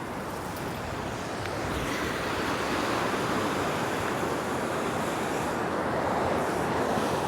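Waves wash onto a Hawaii beach under steady wind, a dense continuous roar of surf filling the scene without a break, with no talk over it.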